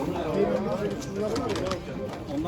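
Pigeons coo softly at a rainy-day Istanbul bird market, barely rising above nearby talking and general market bustle.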